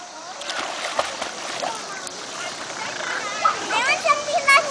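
A child swims in a pool, splashing water with arm strokes, the splashes close and building toward the end, mixed with children's voices and talking.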